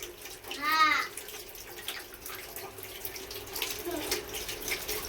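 Tap water runs softly while a pet is washed, a low steady splash with a brief gurgling flourish near the start and light knocks later.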